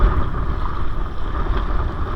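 Strong wind buffeting the microphone by the sea where fishermen would set nets, a loud continuous low roar with gusty fluctuations and no voices.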